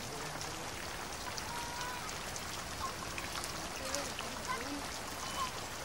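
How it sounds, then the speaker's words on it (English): Steady, dense monsoon rainfall drumming on palm leaf thatch, continuous and close, with a constant hiss and patter throughout. "During the monsoon season, the palm leaf thatch withstands the downpour."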